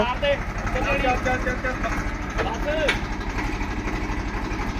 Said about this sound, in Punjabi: ਟਰੈਕਟਰ ਕਿਹੜਾ ਤੁਰਦਾ